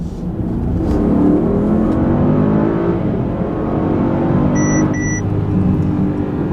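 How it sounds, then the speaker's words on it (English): A 2024 Mercedes-AMG GLE 63 S in race mode accelerates hard up an on-ramp, its engine and exhaust giving a steady, loud, continuous roar from inside the cabin with no talking. "for this on-ramp acceleration, we're gonna put it into race mode"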